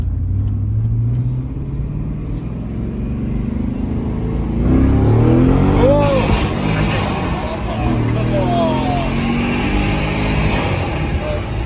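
A loud Cadillac CTS-V engine with a blown exhaust pipe revs and rumbles continuously, with a harsh, raspy roar rising midway.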